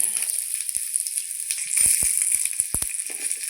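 Nigella seeds and garlic hitting hot oil in a pan beside fried bhetki fish, giving a steady bright sizzle throughout, broken by several sharp ladle or spatula clicks and scrapes as they are stirred.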